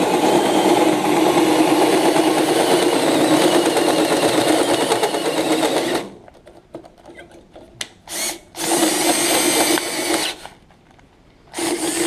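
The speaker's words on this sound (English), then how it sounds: "we're gonna drill all that out in there" A power drill bores out the filler neck of a Chevy K1500 fuel tank, whining loudly and steadily for about six seconds, then stopping and starting in short bursts with quiet gaps between.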